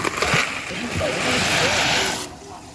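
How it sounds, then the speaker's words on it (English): Dry macaroni noodles pour into a pot of boiling water, a broad continuous rushing splash and bubbling that holds steady for a couple of seconds before easing off, with a voice talking underneath. "My water is now boiling, so I'm going to go ahead and add my macaroni noodles."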